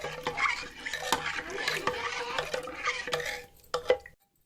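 A spoon slowly works through thick hotel-style idli sambar in a pot, with close scraping and stirring strokes, occasional metallic clinks against the pot, and a faint sizzle underneath before stopping.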